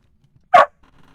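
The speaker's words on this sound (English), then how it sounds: "Your dog." One short, loud dog bark sounds close by indoors, a single sharp yap in an otherwise quiet room with faint movement after.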